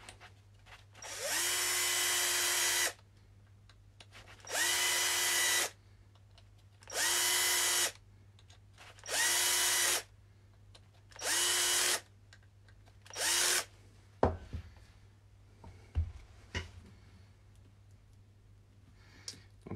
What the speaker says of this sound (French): La visseuse électrique aussi, c'est très pratique.